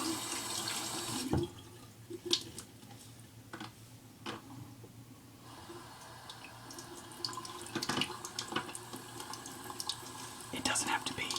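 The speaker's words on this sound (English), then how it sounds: "we're going to get the beard a little wet" Tap water runs softly onto a beard, a faint steady trickle with wet splashes and drips near the start and end, under occasional quiet whispering.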